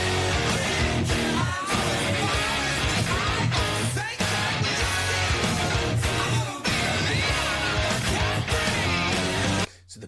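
Distorted electric guitar plays the pre-chorus riff of a song, a loud, dense, driving rock part with sharp rhythmic accents that cuts off abruptly near the end.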